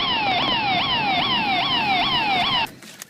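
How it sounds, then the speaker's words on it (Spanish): An emergency vehicle siren wails loud and close in a steady repeating rising-and-falling cycle for over two seconds, then cuts off abruptly, leaving quiet ambient noise. "Tenemos la sirena, será."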